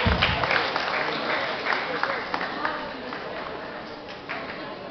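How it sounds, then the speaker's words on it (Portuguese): Audience applause at a EuroCosplay qualifying contest, a steady dense wash of clapping with scattered louder claps, sustained throughout. "palmas para a Lia Martins, por favor"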